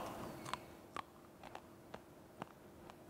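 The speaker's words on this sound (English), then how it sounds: "You hear the crunch? Nice and crunchy." Crispy fried bitter gourd wafers crunch between the teeth in a quiet kitchen setting, several sharp, separate bites spaced irregularly about half a second apart, close and faint over low background hiss.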